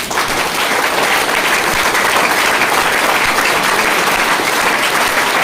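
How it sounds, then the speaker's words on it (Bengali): A crowd at a network-marketing product meeting applauds loudly, dense sustained clapping that holds steady at full strength from start to finish. "একবার জোরে হাততালি হয়ে যান।"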